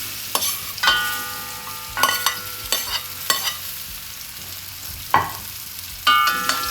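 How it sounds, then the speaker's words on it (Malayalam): Sliced ripe plantain fries in hot ghee, with sharp clanks and scrapes of a spatula against the pan at irregular intervals over a steady close sizzle. "ഏത്തപ്പഴം, അതിങ്ങോട്ട് ഇട്ട് കൊടുക്കാം."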